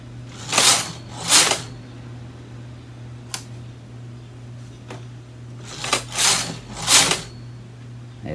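A domestic knitting machine knitting two rows: the carriage sweeps across in whooshing, rattling passes, two close together, then a pause with a faint click, then another group of sweeps, over a steady low hum.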